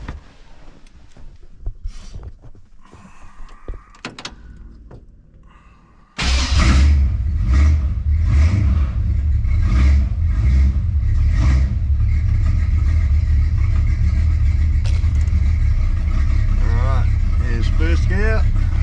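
A car fitted with a TH350 automatic transmission and a newly replaced governor gear cranks and catches at about six seconds, then runs loud and steady with revving rising over it, close by, while someone talks over the engine.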